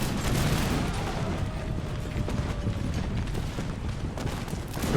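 Dense, continuous musket volley fire rolls through a video game battle of the Anglo-Maratha War between British East India Company troops and Maratha forces. The crackling shots overlap into a loud, unbroken roar with no clear gaps.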